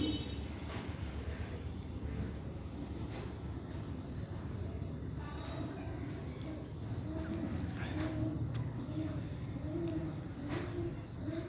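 A pet pigeon perched on a person's shoulder gives soft, low cooing calls that repeat irregularly over a steady bed of rustling background noise, fairly close but not loud.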